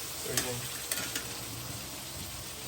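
Chicken pieces fry in a pan for chicken fried rice, a quiet steady sizzle broken by a few light scraping stirs.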